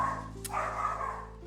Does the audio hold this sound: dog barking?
yes